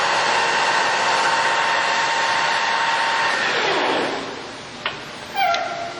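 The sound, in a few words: Harrison 13x40 lathe running at 1200 RPM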